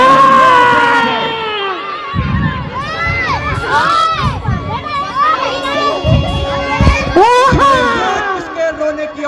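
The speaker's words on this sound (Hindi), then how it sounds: "किसके रोने की आवाज आ रही है?" Crying and wailing in a Hindi stage comedy, loud voices sobbing and shouting together amid a crowd with overlapping chatter.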